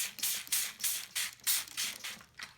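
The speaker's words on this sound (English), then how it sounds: "And you just want to spray it down like this, the sides, evenly" A handheld spray bottle mists water over a plastic cup for growing roses from seed, giving about eight quick, close, hissing spritzes in a steady rhythm with no talk.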